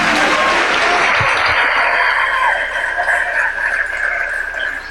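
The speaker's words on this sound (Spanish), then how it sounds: "Denle ese aplauso al Rey en esta hermosa mañana." Congregation applauding during a church service, a dense, steady clapping wash that fills the space and eases slightly toward the end, with no voices over it.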